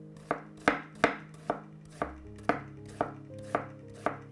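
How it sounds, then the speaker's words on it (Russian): A knife chops an onion into small pieces on a board, about ten crisp, evenly spaced strikes, close and clear with no talking. "Нарезаем лук на мелкие-мелкие кусочки."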